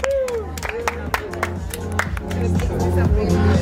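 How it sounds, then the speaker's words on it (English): Party guests at a sixteenth birthday celebration clap and cheer together, a busy wash of hand claps and crowd noise rising toward the end, with music and voices carrying underneath. "Give a big applause."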